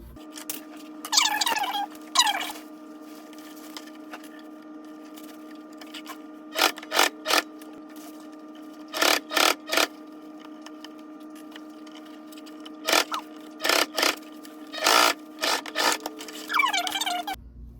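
A sewing machine stitches the side seam of a dress in short bursts of rapid whirring, roughly a dozen separate runs spaced by pauses, close and clear over a faint steady background hum.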